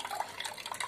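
Water poured into washed lentils for cooking makes a brief, faint splashing and trickling sound, with no speech.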